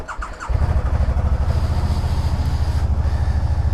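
A 2012 Can-Am Spyder RT-S three-wheeled motorcycle engine fires up after a brief squeal, then settles into a steady, loud, throbbing idle close to the microphone.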